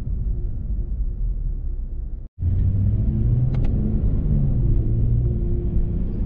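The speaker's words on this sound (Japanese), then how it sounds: "V 型6気筒エンジンはもっとエンジン音を強調すべきだと思いました。" Lexus RC350 with a V6 engine, heard from inside as a steady low rumble and road drone, quiet and subdued, with a brief dropout partway through and no talking.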